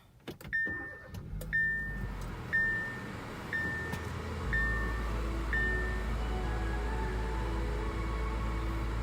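A 2017 Hyundai Veloster with a manual gearbox starts up from inside the cabin: a short series of evenly spaced electronic chimes sounds as the engine cranks, then it settles into a steady, loud low idle hum with no talking.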